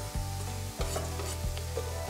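Food frying in a pan as its water cooks off toward crispness, a continuous close sizzle with a few sharp scrapes and knocks of a utensil moving it around.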